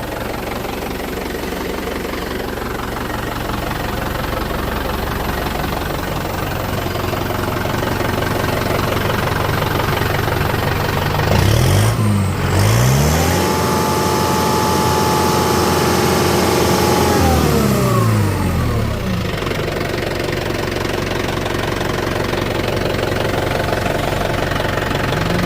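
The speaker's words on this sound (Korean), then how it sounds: "시동을 걸어 놨었거든요. 지금 정상적으로 잘 된 것 같습니다." An M9540 engine idles steadily after repair, a close, even mid-pitched running drone, with two brief revving swells in the middle where the pitch climbs and falls back.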